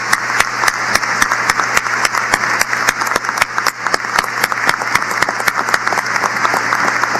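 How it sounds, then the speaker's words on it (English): A large commencement crowd applauds the graduates at a Penn State Wilkes-Barre ceremony, with rapid, sharp individual claps standing out over a dense, continuous wash of clapping and a low steady hum, loud and sustained. "let's give them a big round of applause to these graduates"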